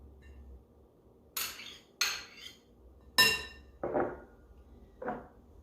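Diced red pepper tipped into a bowl of quinoa: a few sharp clinks and clatters of a utensil against the dish, spaced irregularly, close and moderately loud with quiet gaps between.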